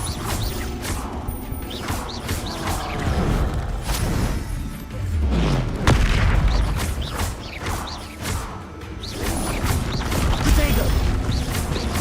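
Repeated Confringo blasting spells exploding in Hogwarts Legacy, loud booms and crashing impacts mixed with creaking and clattering battle effects over dense continuous game noise, while a voice shouts spell names throughout.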